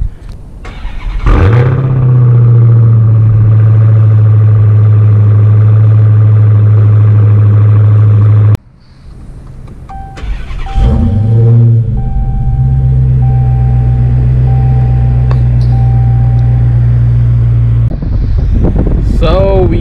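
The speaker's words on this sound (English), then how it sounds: "So let's give you a cold start first and get this bad boy on the road." A Dodge Hellcat's 707-horsepower V8 fires up from cold twice, each start a sharp crank and roar settling into a loud, steady high idle, very close to the microphone with wind buffeting.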